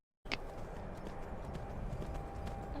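Horse hooves clip-clopping in the video game Skyrim, a rapid steady run of close hoofbeats starting abruptly and continuing loudly throughout.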